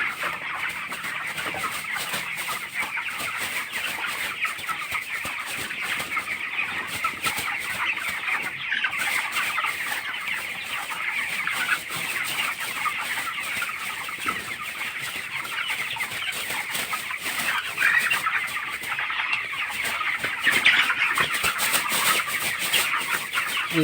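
Broiler chickens about twenty days old cluck in a continuous, dense chorus inside a poultry farm shed, many birds overlapping at close to moderate distance with no voices.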